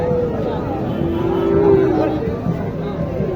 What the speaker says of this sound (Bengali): চমৎকার একটি শাহিওয়াল গরু।